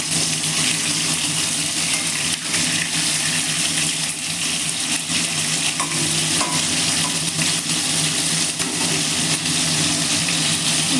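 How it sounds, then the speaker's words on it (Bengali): Cauliflower florets frying in very hot oil, a dense, steady, close sizzle with faint crackles running unbroken throughout. "ফুলকপি ভাজা চলছে"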